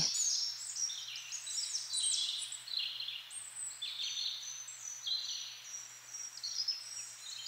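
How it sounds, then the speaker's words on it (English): Many small birds chirp and trill continuously in high, overlapping calls in a forest, moderately distant, with no talking, like a dawn chorus among trees. "you notice the sound of birds chirping"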